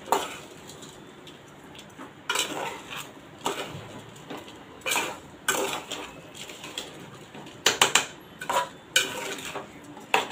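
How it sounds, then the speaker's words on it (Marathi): Ivy gourd rice being mixed in a pot, with a spoon scraping and clinking against the metal in irregular bursts, close and moderately loud, with no talking. "हे आता चांगलं मिक्स करून घेते."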